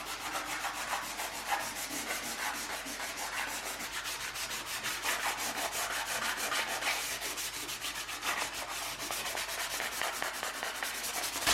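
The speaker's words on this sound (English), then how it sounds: "this is really like light grit sandpaper I'm starting with, so that way I don't do damage yet" Light-grit sandpaper rubs over a wooden tabletop in quick, even back-and-forth strokes, a close, continuous rasping hiss that keeps a steady rhythm throughout with no voices.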